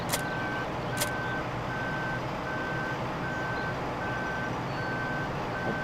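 A truck in a Farming Simulator video game gives off regular reversing beeps in a steady rhythm over a low engine rumble, with two short bright ticks near the start and no talk.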